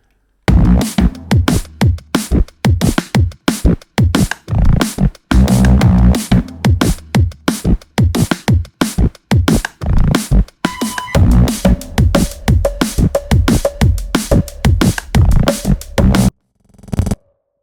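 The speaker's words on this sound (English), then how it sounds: "I created this kind of drum and bassy loop thing" A drum and bass style loop plays alone: dense, punchy percussion hits in a fast, steady rhythm with bassy thumps, loud and upfront, cutting off abruptly near the end.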